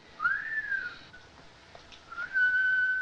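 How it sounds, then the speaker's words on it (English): A comedic whistle sounds in a 1941 Laurel and Hardy comedy: two thin, wavering whistled tones a couple of seconds apart, faint and close over a hissy background, with no talk. "Must be the whistle he swallowed 10 years ago"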